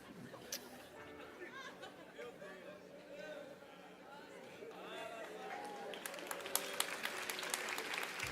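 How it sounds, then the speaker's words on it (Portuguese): Applause from a church congregation during a sermon building up amid chatter and voices, growing louder and more scattered toward the end. "Vocês estão aplaudindo o quê?"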